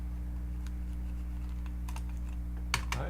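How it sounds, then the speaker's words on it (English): Close computer keyboard typing on a desktop repair bench, a few soft scattered key clicks over a steady mains hum, with two sharper presses near the end. "hold the shift key"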